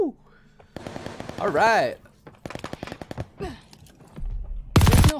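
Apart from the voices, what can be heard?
gunfire in the video game Call of Duty Vanguard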